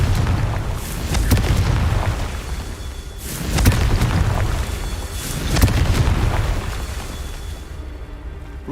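Three heavy booming explosions from the Confringo fire spell in Hogwarts Legacy, spaced a couple of seconds apart, each rolling and rumbling before fading.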